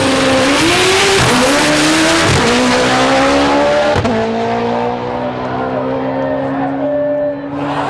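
A 1995 Talon with a 2-liter engine making a drag racing run: a loud, close engine screams upward through rapid gear shifts, pitch climbing and dropping with each change before easing off at the end.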